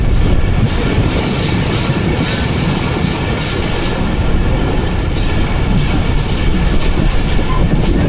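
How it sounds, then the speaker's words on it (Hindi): The Rehman Baba Express runs at speed past a freight train halted on a loop line, a loud, dense, continuous rumble and roar of wheels on rails with a rushing wash over it, unbroken throughout. "एक फ्रेट ट्रेन खड़ी है लूप लाइन पे, उसे ओवरटेक कर रही है हमारी ट्रेन"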